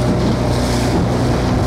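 The engine of a Cardigan Bay coble working lobster pots off Wales gives a steady low drone, largely buried under heavy wind buffeting the microphone at sea.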